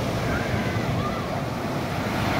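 Ocean waves wash onto a beach in a continuous, loud, broadband surf roar with no voices over it.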